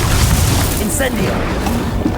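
A fire spell, Incendio, is cast in the game Hogwarts Legacy, giving a dense, loud booming roar that holds steady throughout, with faint vocal sounds blended into the din.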